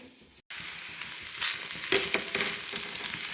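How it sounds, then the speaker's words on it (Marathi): Cut potatoes hit a hot pan with onions and turmeric, setting off a loud close sizzle that swells after a brief break and keeps crackling as they are stirred, with no talk. "आता मी यामध्ये हे बटाटे कट करून घेतले ते घालून घेते"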